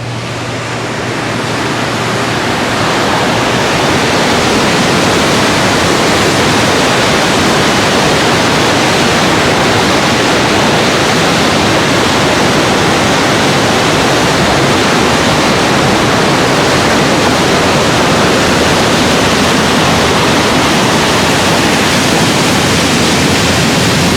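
A creek rushes loudly and steadily, a dense, constant roar of flowing water that fills the whole stretch without pause or talk.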